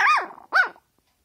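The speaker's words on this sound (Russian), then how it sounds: "Ух, злая собака." Two sharp, snarling barks from a dog close by, the second following quickly after the first, then silence.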